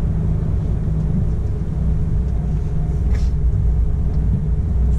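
A truck towing a trailer loaded with 12 tonnes drives along with a steady, loud low engine rumble and road drone that stays constant throughout, with no voices.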